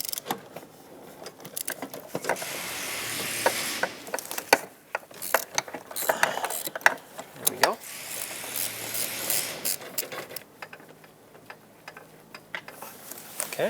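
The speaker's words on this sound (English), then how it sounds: "Take an extension with a swivel if needed, and a long ratchet so you can get some leverage and get these mounting" A long ratchet with an extension backs off the 12mm master cylinder mounting nuts on a 2014-2021 Mazda 6, rapid clicking pawl bursts in repeated strokes, close and loud, with brief pauses between pulls.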